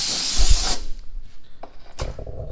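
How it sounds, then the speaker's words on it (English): Compressed air blows off a metal surface being prepared for painting after rust treatment: a loud, close hiss lasts under a second and then cuts off, followed by faint handling knocks. "Let me air blow this off again."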